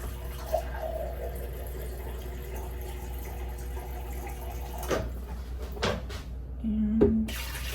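Water pours into an oat milk smoothie as a soft, steady trickle and fill, with a few clinks and a brief louder splash toward the end.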